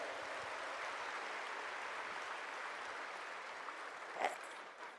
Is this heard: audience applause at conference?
yes